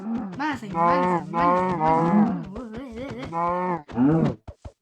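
A Minecraft cow gives several drawn-out, loud, close moos in succession, each a low groaning bellow, followed by a few short clipped grunts at the end.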